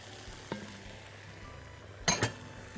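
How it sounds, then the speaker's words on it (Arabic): Spinach and coriander, added for a spinach soup, fry in a pan with a low, steady sizzle, broken by a few sharp utensil clinks and scrapes against the pan. "انزل بالسبانخ والكزبره"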